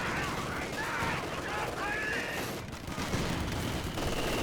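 Gunfire rattles from an MG-42 machine gun bunker in Company of Heroes 2, dense overlapping bursts and battle noise running steadily throughout, with a voice heard faintly underneath.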